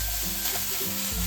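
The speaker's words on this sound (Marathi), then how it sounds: "खोबरं आपल्याला इथे कोरडं करून घ्यायचंय. त्याच्यासाठी परतायला आपल्याला 4-5 मिनिटं लागतात." A grated coconut and jaggery filling is being sautéed in a pan, giving off a steady close sizzle with soft scraping stirs and no talk.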